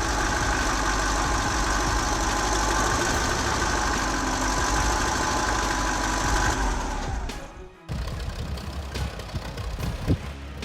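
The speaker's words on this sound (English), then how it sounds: "the Rolls-Royce C8 TFL diesel is a symbol of durability and reliability" A Rolls-Royce C8 TFL diesel engine runs loud and steady with a rough, knocking idle, then briefly cuts out near the end before rumbling back in less evenly.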